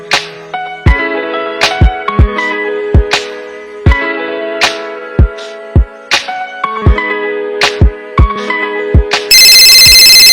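An electronic phone ringtone plays a repeating melodic pattern of bright notes, loud and close, ending in a harsh buzzing tone.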